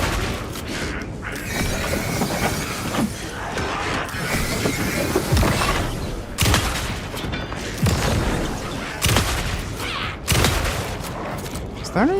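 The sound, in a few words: shotgun gunfire in video game Alan Wake 2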